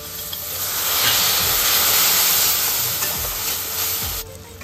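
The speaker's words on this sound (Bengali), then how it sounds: "সব মশলা দিয়ে একটু জল দিয়ে এবার কষিয়ে নেব" Ground spices with ginger paste, turmeric, cumin, chili and a splash of water being sautéed in a pan for palak chicken, giving a loud, continuous steamy hiss with soft stirring scrapes beneath, easing off near the end.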